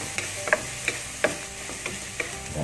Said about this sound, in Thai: ผัดกะปิก่อนนะครับ ให้มันหอมนะฮะ ไม่ต้องใส่น้ำมันเยอะครับ